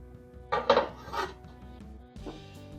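A metal lid settles onto a cooking pot with a few close clinks and a scraping rub, over a steady low stovetop hum.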